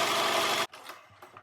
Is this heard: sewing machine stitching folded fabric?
yes